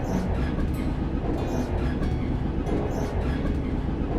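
A train runs on its rails with a dense, continuous rumble and rattle of the wheels, loud and steady throughout with no voices.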